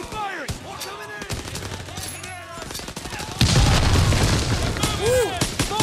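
Dense World War II battle gunfire in Call of Duty: WWII, with rapid rifle and machine-gun bursts and heavy booms, loud and close, swelling into a thicker barrage midway, with shouted voices over it.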